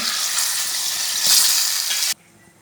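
Chicken pieces fry in hot ghee for a chicken ghee roast, giving a loud close bright sizzle that swells briefly with a stir, then drops suddenly to near silence.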